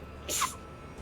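One short, sharp sneeze bursts out against a quiet background, then fades away.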